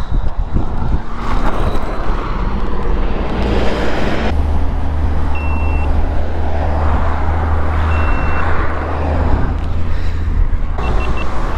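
A vehicle's reversing beeper sounds a few short tones, faint and spaced apart, beneath loud wind and engine rumble.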